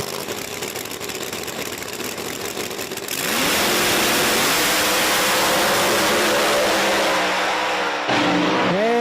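Supercharged Camaro drag racer at a drag strip start line, a loud rough idle that surges into a heavier roar partway through, then a brief dip and a sharp rev near the end, close and dense.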